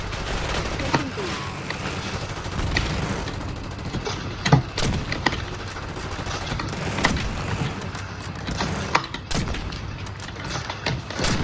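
Rapid gunfire from a video game shooter match in which one team locks and takes bomb site B, with bursts and single shots running steadily throughout at a loud level and occasional sharper booms.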